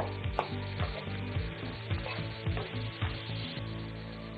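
Paneer fried rice with butter sizzles steadily in a pan while a spatula stirs it in repeated rhythmic scraping strokes, a close, continuous frying hiss with no speech.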